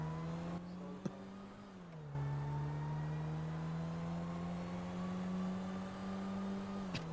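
A steady video game car engine drone holds a low pitch, dips briefly, then settles back into a constant hum as the car drives off.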